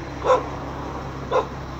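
A small female dog in a cemetery gives two short angry barks about a second apart, close by and alone against a faint background hum.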